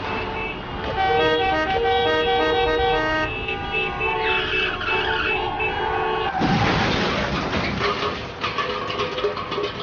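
Car horns honk in a repeating pattern of tonal toots, one sustained blast layered over another, before a loud tire skid breaks in near the end.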